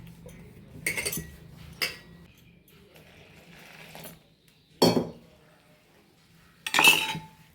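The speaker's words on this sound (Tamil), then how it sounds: "இப்போ இது எல்லாத்தையுமே தண்ணி ஊற்றி நல்லா கரைச்சிக்கும்." A utensil clinks against a bowl while kara boondi batter is mixed with water, giving a few scattered, sharp taps separated by quiet pauses, close by and without talk.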